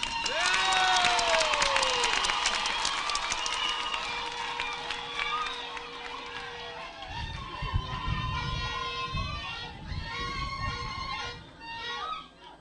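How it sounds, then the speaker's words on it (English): A large crowd at an episcopal ordination and installation in Kotido Diocese, Uganda, bursts into loud cheering, whoops and applause to welcome the new bishop, swelling at first and then settling into a lively clapping and shouting crowd. "with a thunderous clap, we welcome the new bishop"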